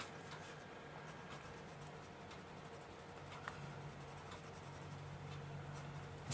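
Soft oil pencils scratch and tick quietly against smooth paper, filling in dark areas of a colouring page with steady, faint strokes and no talking.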